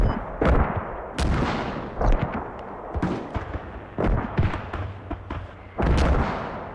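Mortar fire in a multiplayer video game match, a series of heavy booming impacts and blasts at irregular intervals, some sharp and close, others duller, with no voices over them.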